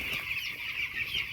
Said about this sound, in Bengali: দেখুন আপনারা মুরগি 12 দিনের মুরগি কেমন আছে